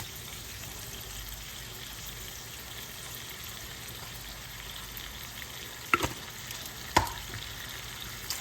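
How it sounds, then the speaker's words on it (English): Sofrito sizzling in a pan with ground beef, a quiet steady crackle and hiss of frying, with a couple of sharp spoon clinks against the pan near the end. "now I'm gonna add my sofrito to this"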